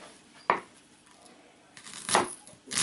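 Knife chopping eggplant on a board, a sharp near cut followed by a pause, then two more crisp, louder strokes in uneven rhythm.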